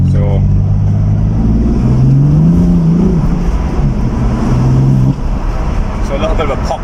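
A manual BMW M4 F82 coupe accelerates hard with wheelspin, its engine note climbing loud and close for several seconds before dropping off sharply, with a voice talking near the end.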